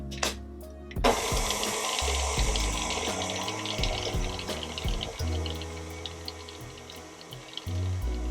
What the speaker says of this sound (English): you're just mixing until combined, because you don't want to overwork the dough. That's really, really easy to do with a stand mixer